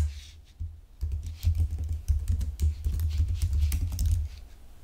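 Computer keyboard typing while entering text in Illustrator, a dense run of quick clicks over a steady low hum, fairly close and continuous, with no talking.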